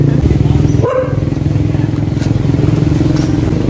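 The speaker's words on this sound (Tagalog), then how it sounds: "Baka babae yung aso. Nag-aw-aw lang." A dog barks a few times outdoors, partly masked by a steady motor hum and people talking nearby.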